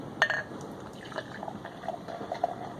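Beer pours into a glass from a bottle, a quiet liquid trickle and splash with a brief clink at the start, faint and close.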